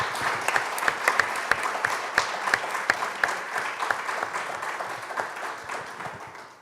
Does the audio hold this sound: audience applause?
yes